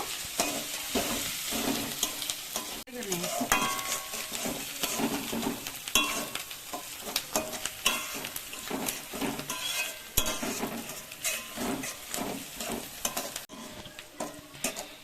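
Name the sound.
onions frying and being stirred in a pan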